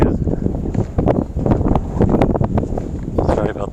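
Gusty outdoor wind buffets the microphone in rumbling, low bursts throughout, loud and close, while someone talks over it.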